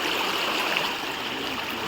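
River water rushes in a loud, continuous roar where two rivers meet, a steady broadband flow with no pauses and no talking.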